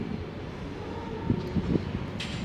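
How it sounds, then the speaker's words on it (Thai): A tram running through Kumamoto, Japan at night, a low, steady rumble with faint rail clatter and a few soft knocks, fairly distant and quiet, with a brief brighter hiss near the end. "รถรางก็ยังวิ่งอยู่"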